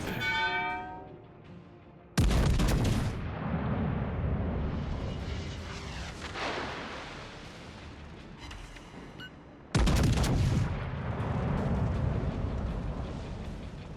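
Warship secondary guns fire in the World of Warships Legends video game, two heavy booming salvos several seconds apart, each followed by a long rumbling decay.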